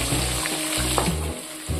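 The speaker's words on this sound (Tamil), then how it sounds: "சின்ன வெங்காயத்தை நல்லா வதக்கிக்குவோம்" Steady sizzling of shallots frying in hot oil, with a low hum in the background and occasional stirring.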